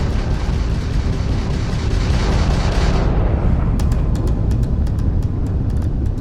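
Spaceship weapons fire in Starfield ship combat against a Crimson Fleet ship: a dense, roaring wash of heavy booming fire, followed by a run of quick sharp pulses over the continuing rumble.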